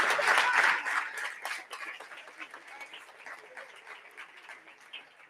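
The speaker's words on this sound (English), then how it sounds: "now you're clapping, huh?" Conference audience applause during a plenary session, a burst of clapping that starts full and thins out into scattered claps as it fades.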